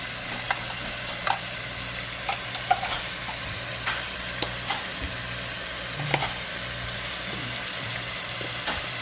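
Eddoes, chives and green seasoning being stirred in a frying pan, with soft sizzling under a string of sharp spoon scrapes and taps against the pan, close and fairly quiet.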